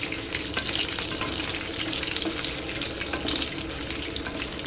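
Food frying in a pan gives a steady, close sizzle and crackle that runs unbroken throughout, with no voices.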